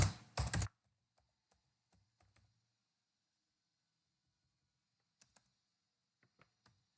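A computer keyboard sounds in a quiet room: a brief louder burst at the start, then sparse, faint keystroke clicks, a few isolated taps and a short cluster near the end.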